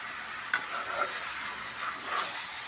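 Chicken curry stirred in a pan over a village-style fire, with a faint, soft hiss of cooking and a few light scrapes and taps of the spoon, no talking.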